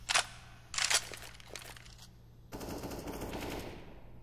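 Gunfire bursts in Counter-Strike on the map Mirage, a few short loud sprays in the first two seconds, then a steadier rattle of distant shooting with a low rumble underneath.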